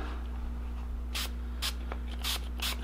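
Gun-cleaning solvent sprays onto the cylinder of a Heritage Rough Rider .22 LR revolver in four or five short, close hissing bursts over a low steady hum.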